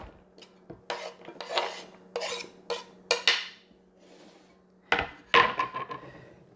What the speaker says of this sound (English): we pop the onions